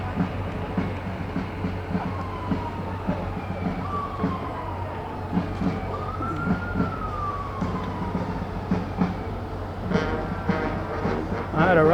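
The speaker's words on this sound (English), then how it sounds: "EMS 461, a 2013 Horton ambulance" A 2013 Horton ambulance's siren wails in slow rising and falling sweeps during a parade, over a constant low rumble of engine and crowd, then breaks into a faster yelp near the end.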